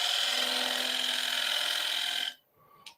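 A woodturning gouge cutting wood on a lathe gives a steady, close hissing scrape with a faint whine underneath, then stops abruptly, followed by a brief light knock.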